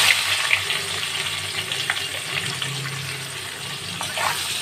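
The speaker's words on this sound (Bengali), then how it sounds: "পেঁয়াজগুলো একটু লাল করে ভেজে নেব" Chopped onions, with dried red chillies and bay leaves, fry in oil in a pan, a loud, steady hiss with a few soft stirring scrapes and brief crackles, up close and without speech.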